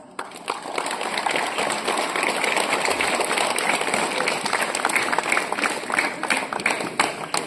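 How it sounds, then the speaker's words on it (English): Applause from a school audience welcoming malaria office guests at a bed net distribution at JNV Williamnagar: dense, steady clapping from many hands that lasts several seconds, fairly loud and close. "So I want you all to welcome them with a great round of applause."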